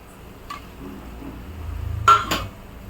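Fried paniyaram are tipped into a pan of egg thokku, giving a few clinks of a utensil against a metal pan and a brief scraping stir, close and short, with no talking.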